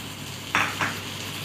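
Onion, ginger, garlic and tomato paste sautéing in a pan for dhaba-style aloo gobi: a steady soft sizzle with two quick scraping stirs close by.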